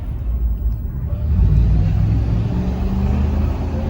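A car passes by on a nearby road in a garden setting, a steady low rumble that swells toward the middle and fades slowly, fairly loud with no talk over it.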